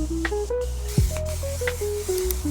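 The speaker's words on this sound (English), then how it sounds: "Let me go ahead, spray my face down." Setting spray misted onto a face after applying Patrick Ta foundation and Hourglass concealer, giving soft, short hissing bursts close to the mic over faint background tones.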